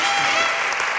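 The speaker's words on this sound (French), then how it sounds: "On peut l'applaudir bien fort" A conference audience at a corporate data event applauds in a short, dense burst of steady clapping, fairly loud and unbroken.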